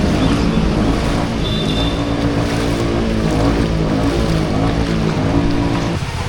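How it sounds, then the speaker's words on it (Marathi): A water tanker truck drives through a waterlogged road during monsoon flooding in Nalasopara, its loud engine rumble and the churning rush of water continuous and close throughout. "हा पाण्याचा टँकर जातो आहे बघा"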